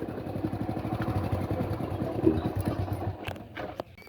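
A motorcycle engine idles with a low, steady putter at a temple parking area, fairly faint and close, before it sputters to a stop, with a few clicks near the end.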